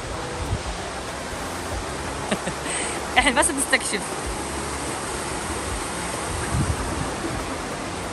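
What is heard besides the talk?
running water of a nearby waterfall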